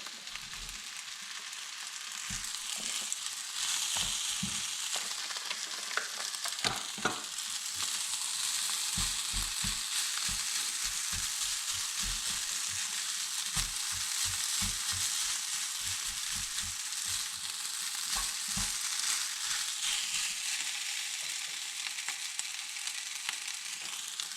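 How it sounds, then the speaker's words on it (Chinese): Rice with ham stir-fried in a wok for Yangzhou-style fried rice, a steady loud sizzle with frequent scraping and clattering of the spatula against the wok, continuous and close, no speech. "饭都炒散了以后，放入鸡蛋"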